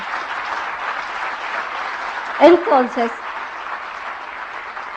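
Convention audience applause rolls on as a steady, moderately distant wash of clapping, while someone briefly speaks over it partway through.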